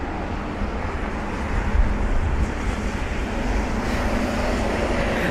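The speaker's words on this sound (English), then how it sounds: "And there goes that Turkish jet." A Turkish jet departing London Heathrow in wet, spray-heavy conditions, heard as a broad steady roar of engine noise mixed with wind and wet rush, loud and continuous with no talk.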